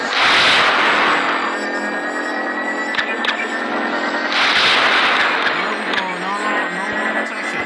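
Weapons in the Solar Smash video game fire at a planet, giving loud roaring blasts in two long surges broken by a few sharp cracks, with dense rumbling texture throughout.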